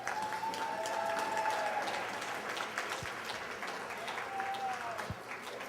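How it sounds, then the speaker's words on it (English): Audience applause at a general session of a conference, a steady wash of clapping throughout with faint voices mixed in. "Give them another round of applause."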